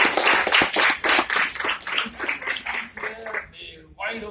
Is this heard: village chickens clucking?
no